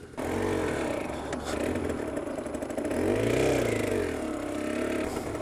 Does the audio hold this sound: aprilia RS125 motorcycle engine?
yes